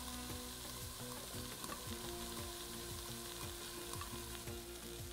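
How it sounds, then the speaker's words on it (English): Onions sautéing in a pan of olive and vegetable oil, a loud continuous sizzle and crackle with rhythmic stirring scrapes running underneath, close up with no talk. "Saute the onions for a little while."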